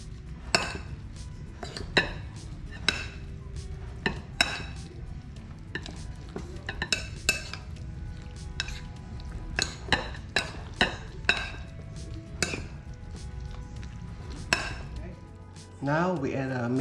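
A spoon scrapes and clinks against a bowl as crab and seafood stuffing is gently mixed with hot sauce. The taps are irregular and fairly close, in an otherwise quiet kitchen.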